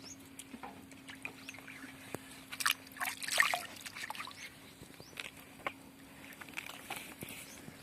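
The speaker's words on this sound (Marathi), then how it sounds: "हे स्वच्छ पाण्याने चांगले आपल्याला धुवून घ्यायचे आहेत" Water trickles and splashes softly as carrots are rinsed under a running stream, with a few louder splashy bursts in the middle.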